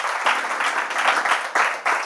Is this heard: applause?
yes